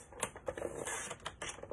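Paper for a junk journal master board trimmed straight on a cutting board, a run of crisp clicking and slicing snaps in uneven bursts, close and fairly quiet with no talk.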